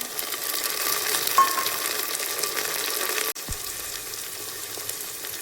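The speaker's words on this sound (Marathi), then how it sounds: "आता ह्या कांद्याचं होतं त्यावर टमाटर कट करते चला आता टमाटर टाकून घेते" Onions and tomatoes frying in a pan for a mixed vegetable curry, a steady, close sizzle that runs throughout, briefly interrupted by a sharp dip and a soft thud before the frying continues.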